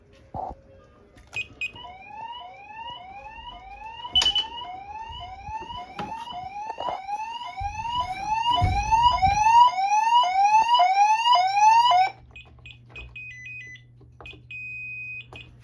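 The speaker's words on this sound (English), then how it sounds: "we'll just do the police alarm real quick with the Panics" A security system's police panic alarm siren whoops loudly in rapid rising sweeps for several seconds, then cuts off, leaving a steady beeping tone and low hum.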